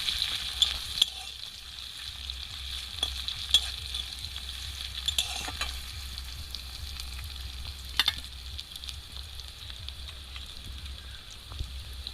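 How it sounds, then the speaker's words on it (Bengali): Chopped onion fries for masala in a pan, giving a quiet, steady sizzle with occasional small pops and stirring clicks throughout. "এবার পেঁয়াজের কুচি দিয়ে দিচ্ছি মশলা বানানোর জন্য"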